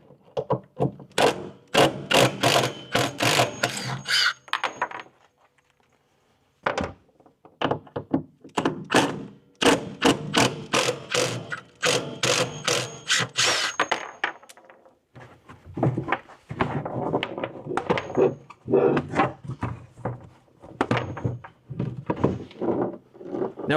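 Polaris RZR side-by-side with its bed being unbolted from four bolts and pulled loose, giving repeated dense bursts of thunks, knocks and rattles with brief pauses between them and no talk.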